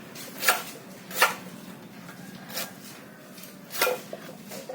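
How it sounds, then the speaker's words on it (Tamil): A hotel vegetable-cutting machine chops through vegetables, giving four or five separate crisp chopping strikes at irregular intervals over a quiet room hum. "டன் கணக்காக காய்கறி வெட்டலாம். அதில் ரொம்ப சுலபமாக கட் பண்ணலாம்."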